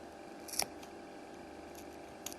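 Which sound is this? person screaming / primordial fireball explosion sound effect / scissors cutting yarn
scissors cutting yarn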